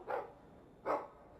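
A Mabari war hound in the Dragon Age game lets out two short, muffled barks, fairly faint and spaced about a second apart, with no talk.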